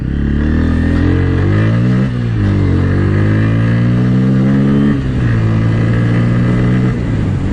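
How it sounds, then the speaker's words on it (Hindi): A Bajaj Pulsar N160 motorcycle accelerates hard. The engine note rises loud and close, dropping briefly at two gear changes before climbing again, with no speech. "इसका जो एक्सेलरेशन है वो कैसा है चेक करते हैं।"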